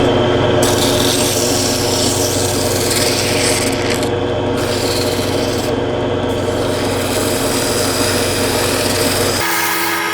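Sandpaper at fine grits up to 320 rubs by hand over the wooden knob of a century-old handplane, making a continuous, close, raspy scrubbing with no pauses.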